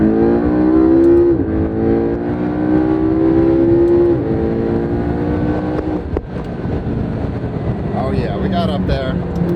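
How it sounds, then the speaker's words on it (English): A McLaren sports car with a Fab Speed exhaust revs and drones loudly up close, pitch rising and dropping through gear changes, with a brief pop and some voices near the end. "It sounds incredible with the Fab Speed exhaust"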